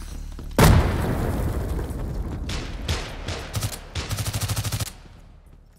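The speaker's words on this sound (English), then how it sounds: "Throwing frag!" A frag grenade in the shooter game Hired Ops lands with one loud, close boom, followed by several seconds of dense game gunfire, including a rapid, even machine-gun burst near the end.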